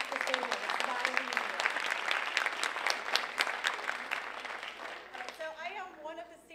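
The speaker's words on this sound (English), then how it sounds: "give yourselves one more time, yeah, another round of applause for making that decision" First-year students at a university convocation give a round of applause that starts full and steady, then thins and fades near the end as a voice begins speaking.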